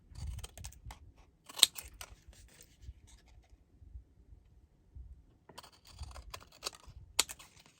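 Scissors trim small pieces of paper card, quiet close snips in short irregular bursts with pauses between, some faint rustling of card being handled, no talking.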